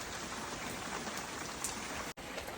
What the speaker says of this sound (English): Just pouring down rain.